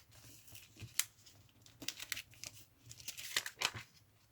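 A paper bag being folded and creased by hand, a scatter of close, crisp crinkles and sharp snaps of paper, with bursts of rustling between quieter pauses.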